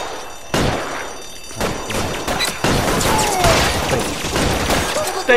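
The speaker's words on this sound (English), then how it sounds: "I'll lay down the suppressor fire." Gunfire in the video game L.A. Noire, a series of loud sharp bursts and crashing impacts spread across several seconds, close and harsh, with no talking.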